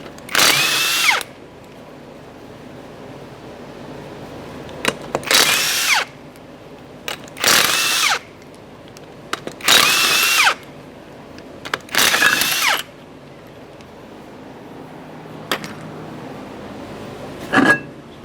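A power tool spins off the 21mm lug nuts on a Toyota Camry wheel in about five separate loud whirring bursts, each lasting a second or so, with quiet gaps between them.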